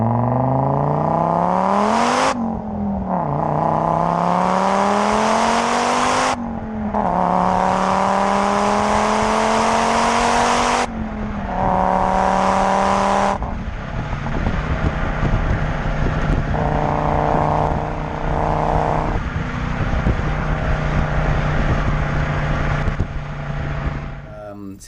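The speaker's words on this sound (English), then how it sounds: "the 5-cylinder engine note, I think, to me, a 5-cylinder turbo is the best sound of any car" Modified Fiat Coupe 20v with a five-cylinder turbo engine and aftermarket exhaust, revving repeatedly in rising sweeps with pauses between, then settling into a steady drone under loud talk.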